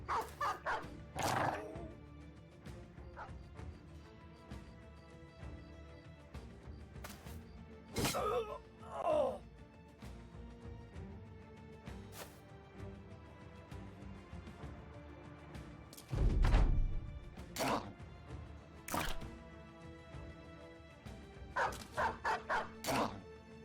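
Dogs in the video game Battle Brothers bark, yip and whimper in scattered bursts during battle, some sounds loud and close, others fainter, with combat noises between them.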